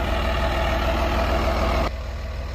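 A John Deere 8100 tractor, the one used with a 1431 disc bine and baler, runs steadily and close by, a heavy low diesel drone that drops slightly in level near the end, with no talk over it.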